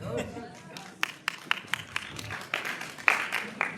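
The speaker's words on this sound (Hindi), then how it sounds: "ताली वही बजा रहा जो नहीं रुकेगा" An audience claps in scattered, uneven bursts, roughly a dozen distinct sharp claps spread irregularly across the moment, with a voice speaking over them.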